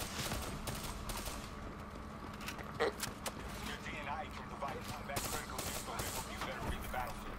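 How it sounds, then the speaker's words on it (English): Burst-fire gun shooting during the Black Ops 3 campaign, short clustered volleys of shots crackling at moderate volume over a steady low game hum, with scattered impacts throughout. "What the heck is this gun? It's a burst gun."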